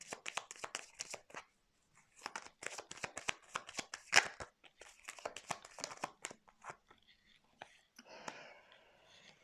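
Tarot cards are shuffled in rapid riffling bursts and laid out with soft slaps and crinkles, close and fairly quiet, pausing briefly between runs.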